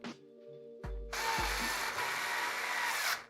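A hand screwdriver driving screws into a Phanteks P600S PC case, with sharp metallic ratcheting and whirring bursts that settle into a steady, close mechanical buzz.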